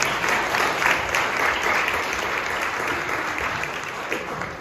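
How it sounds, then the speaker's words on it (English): Steady, full audience applause at a Kiwanis club gathering, a dense continuous patter of many hands holding at an even level throughout. "I think that deserves a round of applause."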